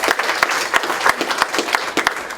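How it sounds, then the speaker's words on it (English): Applause from an audience at a Bendigo Bank community event, a steady wash of many hands clapping with sharp individual claps standing out, close and fairly loud, with no talk over it. "give them a clap"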